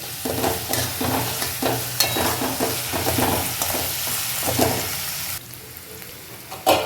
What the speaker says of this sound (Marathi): चांगल्या प्रकारे फ्राय करून घ्यायचं मिठानी लवकर तो कांदा